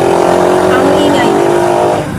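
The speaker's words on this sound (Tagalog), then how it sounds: "Ang ingay ng tricycle." A motorized tricycle runs on a small-town street in the Philippines, its loud buzzing engine droning close by for about two seconds before easing slightly at the end.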